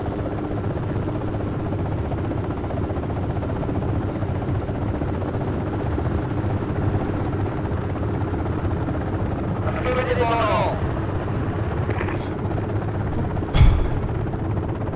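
Transport helicopter rotor in Project Reality drones loud and continuous throughout, close and unbroken, with brief game effects and a voice talking over it.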